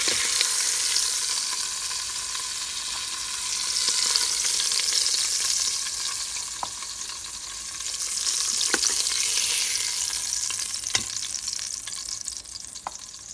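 Two pounds of beef short ribs brown in a hot pan, sizzling and frying loudly and steadily up close, the hiss swelling and easing with occasional crackles and no talking.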